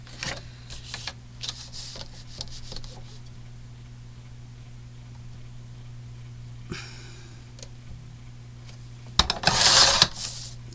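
A paper trimmer slices a DIY planner page: a few light clicks and a soft slide early, then a louder rasping cut near the end over a steady low hum, close and with no talking.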